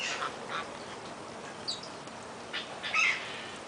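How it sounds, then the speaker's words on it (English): A duck gives a few short, nasal quacks in quick bursts over faint outdoor background, fairly close, with no talking. "That duck's evil."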